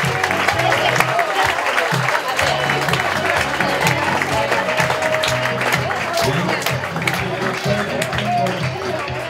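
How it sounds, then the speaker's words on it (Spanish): A crowd applauds team sponsors at a youth football club's season presentation, with dense clapping throughout, voices and cheering mixed in, and a loud, close, continuous wash of sound. "Fuerte aplauso para ellos."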